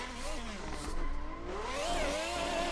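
A 1600-horsepower rear-wheel-drive Quadra revs hard in Cyberpunk 2077, its loud engine note sweeping upward in pitch as it accelerates, close and continuous for a few seconds.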